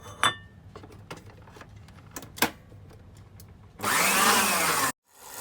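An electric mixer beats gluten-free lemon and vanilla cake batter with yogurt added, a loud steady whir that runs for about a second after a few faint clicks and knocks, then cuts off abruptly.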